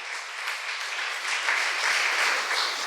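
A congregation claps steadily during a Sunday church service, a dense, continuous wash of many hands applauding together, moderately loud and sustained throughout.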